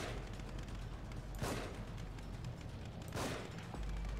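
Gunfire from the horror video game The Evil Within: two loud, sharp shots spaced about two seconds apart, each a broadband crack over a constant dense game background.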